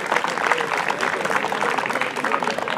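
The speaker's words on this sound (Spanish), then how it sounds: "fuerte, fuerte, muy fuerte el aplauso" Sustained applause from a crowd at an equestrian celebration for national club champions at Hípica de Flores, dense and even clapping throughout at moderate distance.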